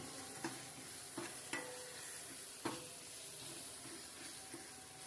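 Onions fry in a pan for Kannur-style dal curry, with a steady quiet sizzle and a few soft clicks of a spoon stirring.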